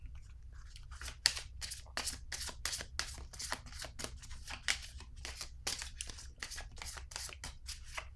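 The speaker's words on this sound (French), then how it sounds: "piger une autre carte." Cards being handled and drawn from a deck, a fast run of crisp riffling flicks repeating for several seconds, close and clear with no talk.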